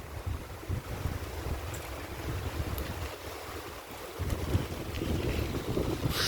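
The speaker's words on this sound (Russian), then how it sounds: "Что-то налетает, какой-то ураган." Strong gusting wind outdoors near a river, a loud rumbling roar buffeting the microphone, rising and falling in surges and swelling again toward the end.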